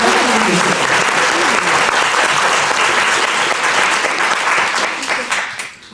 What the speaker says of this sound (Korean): 기가 막히게 편집해 주신 출판사 분께 박수 한번.